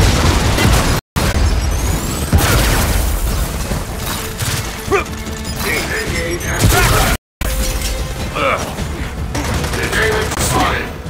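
Grenade blasts and heavy gunfire in Gears of War 4 gameplay on Xbox One, dense loud booms and shattering bursts filling the whole stretch, with brief dropouts and voices speaking over the chaos.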